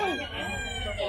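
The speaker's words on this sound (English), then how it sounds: "chicken." A chicken at a crocodile park in Cebu, Philippines, clucks and crows in a loud, close run of rising and falling calls lasting about a second, over background murmur.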